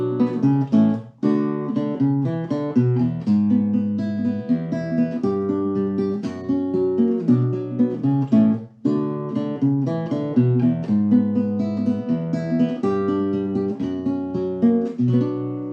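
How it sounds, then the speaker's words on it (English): A solo fingerpicked nylon-string guitar plays a flowing chord progression with melody notes, close and clear, steady and continuous with no voices. "And it was performed on a nylon string guitar, played fingerstyle."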